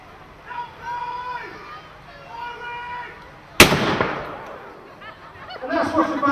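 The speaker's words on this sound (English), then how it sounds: "that's what's referred to as a controlled explosion" Voices talk briefly, then a single sharp, loud blast from a water disruptor in a controlled explosion of a device bursts out and decays into a rushing spray, followed by more talking, at an emergency services display at Brooklands.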